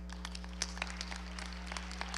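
Scattered applause from an audience at a medical college white coat ceremony, with individual claps audible, moderately distant, over a constant low electrical hum.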